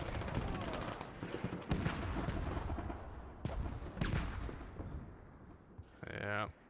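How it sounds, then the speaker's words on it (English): Battlefield gunfire from the military shooter game Squad, with shots and heavy blasts echoing at varying distances, some sharp close reports among a rumbling din, and voices faintly under the combat. "Shooting on the north side."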